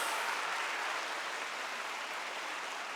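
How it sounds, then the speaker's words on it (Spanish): Inside a church, a congregation gives steady, even applause with a broad wash of clapping and no break from start to finish, heard alone and at a moderate distance. "Fuertes aplausos a Él."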